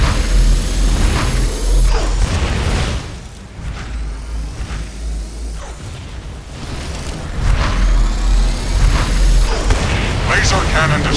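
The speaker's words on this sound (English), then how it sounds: "Preparing to launch heavy cruise missiles against the X-Morph core" Heavy booming impacts and rumbling blasts from cruise missile strikes on the X-Morph core in the game X-Morph Defense roll continuously over a dense battle din, with repeated strikes landing in quick succession.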